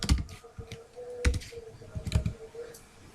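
Computer keyboard keys clicking in quick irregular bursts while someone types code, close and fairly loud with brief pauses between runs of keystrokes.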